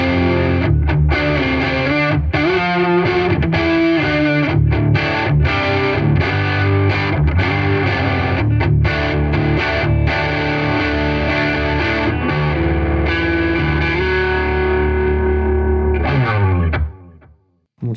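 A heavily distorted semi-hollowbody electric guitar on the neck pickup plays a thick, warm riff with sustained chords, loud and continuous, ringing out to silence at the end.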